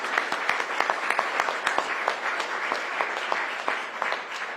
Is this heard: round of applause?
yes